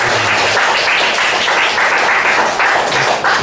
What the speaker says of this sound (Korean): 우리 서로 여기서 박수 한번 치겠습니다